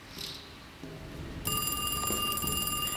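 Telephone bell ringing in the Alone in the Dark remake horror game, a sudden bright metallic trill starting midway and continuing steadily over low ambient game rumble and faint footsteps.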